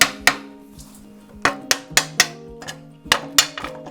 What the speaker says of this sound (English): we'll give it a little tap with the copper hammer and see